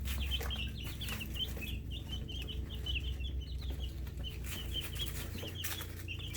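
Young chicks about eleven days old peep and cluck continuously on pine shavings indoors, a steady run of small chirps close by, with no voices over them.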